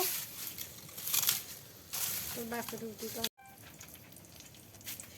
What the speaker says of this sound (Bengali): আর আম্মু এখন বুট ভাজি করে নিচ্ছে